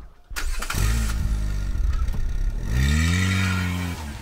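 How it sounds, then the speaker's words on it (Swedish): A car engine cranks and catches, idles with a clattering churn, then revs up loudly and pulls away, the drone holding steady and close before easing off slightly at the end. "De små orden hoppade in i Lycklig's bil och körde iväg."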